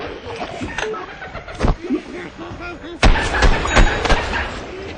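Sticky explodey ball detonating in Plants vs. Zombies: Garden Warfare on Xbox 360, sharp percussive blasts amid busy game effects and a looping whine, with a heavy explosion near the middle standing out above the mix.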